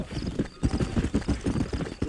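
Rhythmic clip-clop of horse hooves at a steady gallop in the video game Red Dead Redemption, close and clear, repeating evenly with no talking.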